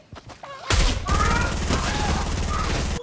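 Rapid automatic gunfire in a Fortnite-style battle royale game, a dense burst of repeated shots starting abruptly and continuing loud and fast, after a moment of quieter game sounds.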